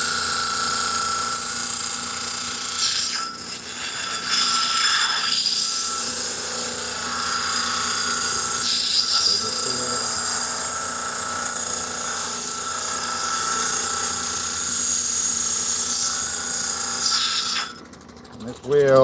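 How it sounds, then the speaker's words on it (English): Worn 80 grit lapidary grinding wheel flattening an agate or turquoise stone, a continuous close grinding whine with shifting pitch as the stone is pressed and lifted, steady throughout. "And this wheel, even though it's an 80 grit, it's probably more like 180 grit at this point."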